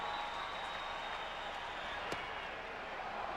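Baseball stadium crowd at a St Louis Cardinals at Houston Astros game cheers on the Astros setup man, a distant, steady roar of applause and clapping that is faint and sustained, with a single sharp click.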